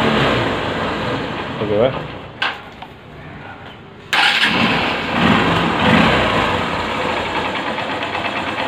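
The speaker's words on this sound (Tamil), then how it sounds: "இப்போ நம்ம வண்டியை ஸ்டார்ட் பண்ணுவோம்" A motorcycle with an accelerator over-revving fault starts up with a loud burst and then runs steadily at a fast idle close by, with someone speaking briefly over the engine.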